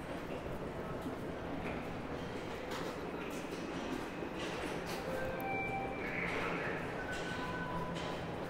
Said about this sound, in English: Sounds like there's a train rolling in right now.